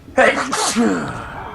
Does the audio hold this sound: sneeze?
yes